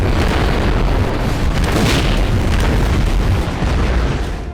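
Bombs exploding during a military exercise on an open field, a dense continuous roar of blasts and rumble that stays loud and sustained throughout, with no voices.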